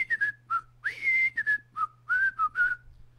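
A person whistles a short, lilting tune of quick, clear notes with gliding pitch, close and alone against a faint background hum.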